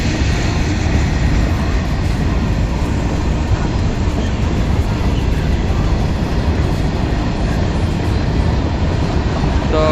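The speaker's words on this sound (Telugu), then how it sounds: "గూడ్స్ ట్రైన్ విత్ హెవీ స్పీడ్తో వెళ్తుంది మన కరీంనగర్ రైల్వే" A goods train rushes through Karimnagar railway station at night at high speed, a loud, continuous close roar of wheels and wagons with rattling clatter filling the whole stretch, no voices.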